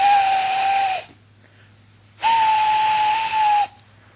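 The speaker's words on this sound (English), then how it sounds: "far away, but getting louder and louder, was the sound of an engine's whistle" A steam engine's whistle sounds from a distance in two long, steady tones, each about a second or more, with a gap between them and a breathy hiss around the whistle.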